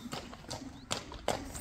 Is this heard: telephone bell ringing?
no